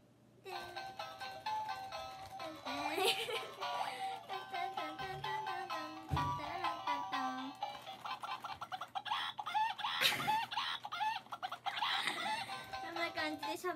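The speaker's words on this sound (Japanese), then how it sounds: "で喋る鶏です" A talking toy chicken clucks and chatters in a series of bright, repeated cackling calls, while a person talks and laughs intermittently nearby in a quiet indoor room.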